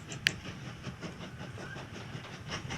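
Quiet rolling train noise from the Mashinky railway game, a soft continuous clickety-clack rumble with a brief sharp click near the start and no talk.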